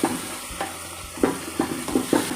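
Mango sheera is stirred gently in a hot pan, with a low bubbling sizzle under soft, rhythmic scrapes of the spoon, about one every half second.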